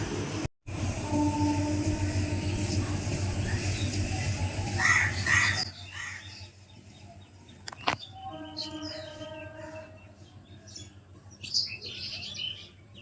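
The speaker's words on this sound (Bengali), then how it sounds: "শুনতে পাচ্ছি কিনা জানি না, কত রকম পাখি ডাকছে," Crows caw and assorted birds chirp and call around a rooftop after rain. A steady broadband hum dominates the first half, then scattered, fairly close calls stand out against a quieter background.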